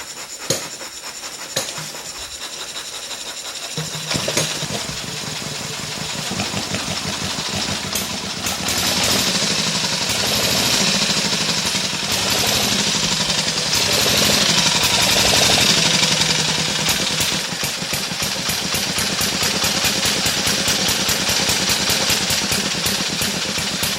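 A vintage 1913–1914 Elk motorcycle engine cranks with a few uneven pops, then catches and runs loud and close with a fast chattering beat that holds steady and revs slightly.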